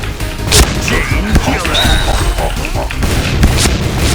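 Shotgun blasts in a Thai online shooter game ring out as several sharp, booming reports scattered over a busy, dense mix of game noise, with other impacts and effects close around them.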